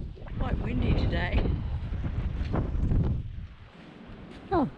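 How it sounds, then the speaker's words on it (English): Strong wind buffets the microphone in a continuous rumble aboard a catamaran beside mangroves near Tin Can Bay, Australia, with gusts rising and falling and brief vocal sounds near the end. "Quite windy today."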